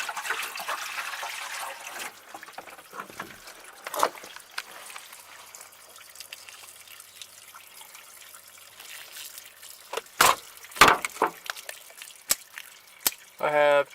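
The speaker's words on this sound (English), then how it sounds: "I'm going to pour water into the door, and water should pour out there." Water poured into the door of a Chevrolet Monte Carlo to test its drain holes, heard as a running trickle and splash with scattered drips, then sharper spatters and sloshes toward the end, fairly close and at moderate level.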